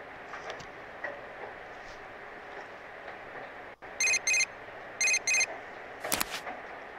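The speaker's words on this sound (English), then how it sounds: "We received a text message." A text message alert in the Persona 4 Golden video game: two short pairs of bright electronic chimes ring out clearly over a quiet game background, followed by a brief higher tone.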